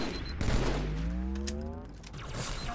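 Gunfire in the shooter game Halo 2, a few sharp shots mixed with mechanical game sounds and a rising electronic whine, fairly close under moderate ambient noise.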